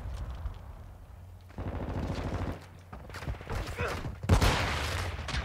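First-person shooter gunfire, bursts of automatic shots and explosive blasts in a busy firefight, loud and close with game noise underneath.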